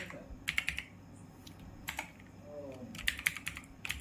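Keys clatter on a computer keyboard as demo text is entered, in short clustered bursts of crisp clicks separated by brief pauses, close up, with someone speaking faintly between the bursts.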